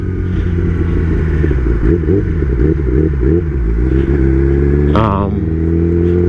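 Kawasaki ZX10 sport motorcycle ridden through city traffic, a loud, close, continuous engine drone with shifting revs and a brief surge near the end, with a rider talking over it.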